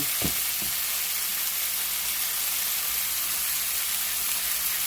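Steak sizzles and fries steadily in a hot pan, a dense even crackle that runs the whole time with a couple of brief low clunks near the start and no talking.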